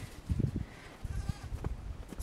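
Goats bleat a few times at close range in a village, short bursts scattered over quiet outdoor background noise.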